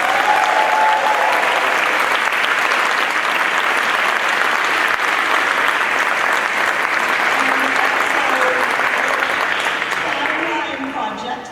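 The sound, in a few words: audience applause for awardees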